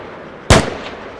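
A single loud, sharp gunshot from a modded weapon in Arma III cracks out close by and fades into a short echoing tail, with no talk.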